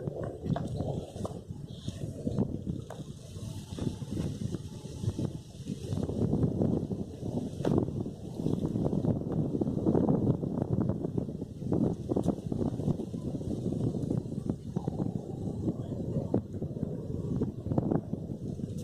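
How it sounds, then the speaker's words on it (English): Chilly wind blows outdoors at a carp fishing spot, a steady rumbling gust buffeting the microphone throughout, loud and continuous with no voices. "That wind is starting to get very, very chilly indeed."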